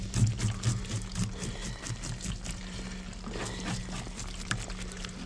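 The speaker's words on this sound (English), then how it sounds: "Scale them with this little knife" Whiting fish being scaled with a small knife, a fast run of scratchy scraping strokes that repeat close by with a low hum underneath, steady and fairly quiet with no voices.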